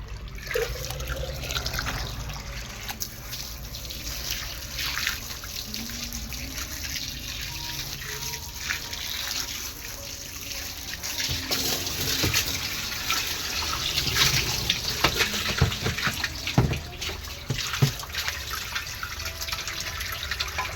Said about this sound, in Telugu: ఇంకా నీళ్ళు అయితే పట్టాలి.